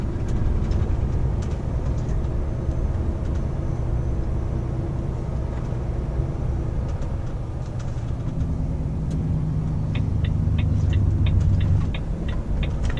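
New truck cruising on the A30, a steady low engine and road drone that stays quiet and even throughout, with faint rattles and light clicks near the end and no talk.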